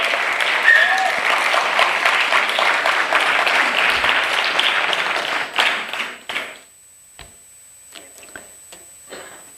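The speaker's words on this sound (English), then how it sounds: "Ladies and gentlemen, let's give a big round of applause to Shweta Narasimhan." A live audience applauds steadily at a Bharatanatyam arangetram, the dense clapping filling the first five seconds before thinning into a few scattered claps and fading out.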